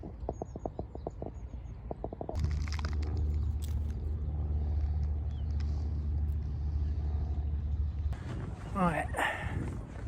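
Steady low engine drone and road rumble from inside a car driving between stretches of a chalk stream, holding evenly for several seconds before other sounds cut in.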